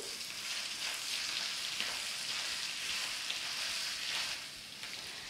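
Potatoes and rock salt are stirred in a hot pan, a steady close frying sizzle swelling with rhythmic scraping sweeps, moderately loud throughout with no voices.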